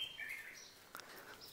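A caged red-whiskered bulbul from Huế gives faint, brief chirps and thin warbling notes, heard at low level over quiet background hiss.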